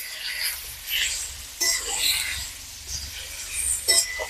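Spiced chicken stir-fried in a pan for biryani, a steady soft sizzle broken by scraping stirs of the spatula, close and moderately loud with no talking.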